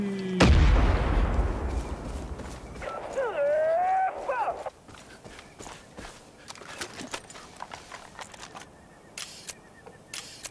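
Bomb explosion in the Far Cry 5 video game: a sharp, loud blast with a heavy low rumble, followed by a whistling, warbling tone and scattered crackling debris that fades out.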